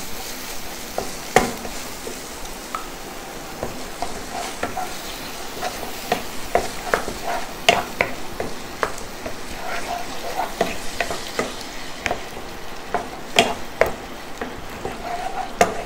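Vegetable kurma being stirred in a sizzling pan, steady frying hiss with repeated scraping and clinking strokes of a spoon, close and fairly loud, with no talking.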